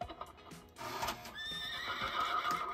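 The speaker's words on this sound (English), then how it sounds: "That's my horse clock." A horse clock lets out a whinnying neigh with clip-clop hoof sounds. The sound is close and fairly loud and carries on steadily for about a second and a half after a few quieter clicks, with no talk.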